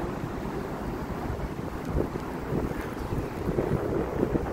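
Strong, dusty wind buffets the microphone in a constant rough rumble, gusting louder toward the end, with no voices.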